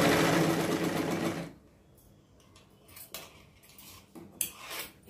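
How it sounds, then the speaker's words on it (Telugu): Sewing machine running steadily for about a second and a half while stitching round the neck of a Prince cut blouse, then stopping, followed by faint handling clicks and taps of fabric and tools. "నడుము వేసేసాక ఈ నెక్ కూడా ఇలాగా కుట్టేద్దామండి రౌండ్గా"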